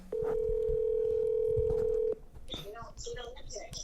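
A telephone on speakerphone gives one long, steady electronic tone for about two seconds, then cuts off as voices start talking close by.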